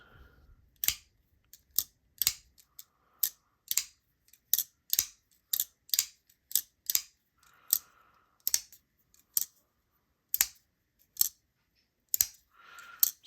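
A Kizer Drop Bear folding knife is repeatedly flicked open and snapped shut, giving a steady series of sharp, close metallic clicks spaced roughly a second apart with quiet gaps between them.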